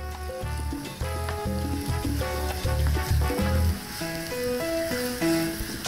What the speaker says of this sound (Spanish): vamos a verter en la sartén, ya el aceite está caliente, y vamos a dejar que se aclare